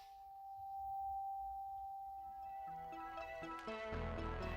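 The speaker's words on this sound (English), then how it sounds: "The pocket clip is integral to the body of the pry bar, and it vibrates with this resonating hum" A grade 5 titanium pry bar's integral pocket clip vibrates with a faint, steady pure-tone hum, with a series of chiming tones building up toward the end.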